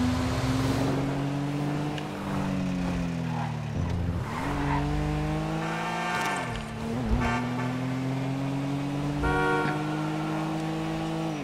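Night traffic in the Grand Theft Auto 5 video game: a loud, continuous car engine drone with tires squealing and several car horns honking, sounding close throughout.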